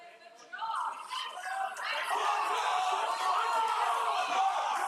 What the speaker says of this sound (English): You're going to listen to the crowd.